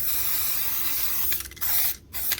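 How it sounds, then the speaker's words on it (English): Close, continuous hiss of spray paint from a can lightly coating a prototype Leslie cube, broken by two short pauses as the nozzle is released and pressed again. "we're going to have a go at spraying our prototype Leslie cube"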